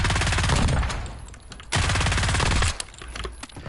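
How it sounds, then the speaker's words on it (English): Rapid bursts of SMG fire from a first-person shooter game, loud and sustained with dense rattling shots, a short pause midway, then another long burst before tapering off. "Also using a gun with extreme recoil and trying to fire at long range."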